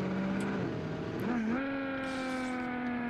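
A simulated high-speed car in the Automation car-building game drives with a steady, buzzing engine tone. The pitch climbs as it accelerates, then holds at a higher, sustained whine, fairly quiet and with no talk over it.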